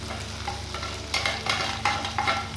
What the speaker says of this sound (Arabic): نضيف البصل بقى يتشوح مع الفول يا حبايبي